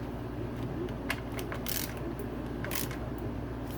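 A ratchet tightens titanium bolts on a dirt bike steering stem, giving several faint, scattered clicks and short bursts over a low steady background hum.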